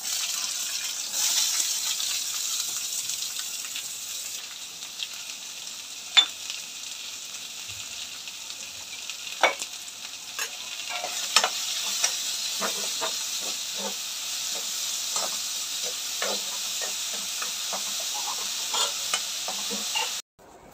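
Sliced onions and crushed garlic frying in hot coconut oil for a curry, giving a steady soft sizzle and hiss with occasional sharper crackles and stirring sounds, no talking.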